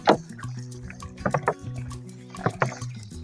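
Diluted EM liquid poured onto a compost heap of leaves and grass, heard as close splashing and trickling in several bursts, with dripping between pours.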